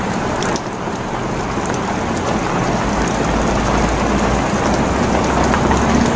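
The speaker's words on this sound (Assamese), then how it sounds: "বৰষুণ পেলাইছে" Heavy rain pours down steadily, a loud, continuous wash of drops that holds from start to finish with no voices.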